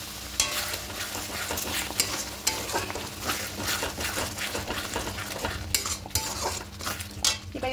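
Fried potatoes tipped into a pan of curry for a vegetarian potato-paneer dish and stirred, a steady sizzle with repeated scraping and clinking of a spoon against the pan, close and continuous with no talk.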